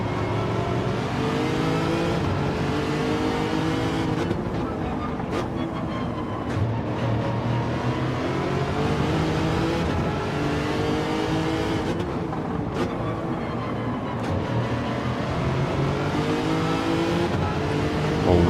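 Nissan GT-R race car, an older model, in Gran Turismo 7, its engine droning steadily and loudly throughout with rising and falling revs and no voices.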